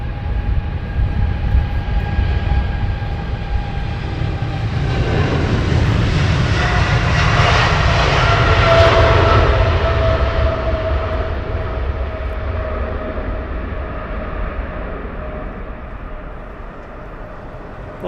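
A passenger jet at Heathrow Airport roars past, the engine noise swelling to a broad peak midway and then fading as the aircraft moves away, with no talk over it.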